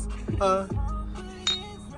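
Drinking glasses clink together in a toast, bright ringing taps close by with a lingering shimmer, amid low voices and table sounds.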